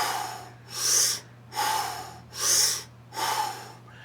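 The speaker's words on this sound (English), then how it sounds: "you're inhaling and exhaling through the mouth with no pause." Circular connected breathing, inhaling and exhaling through the mouth with no pause: four close, loud breath strokes in an even rhythm, each a rushing airy swell, over a faint steady hum and no talk.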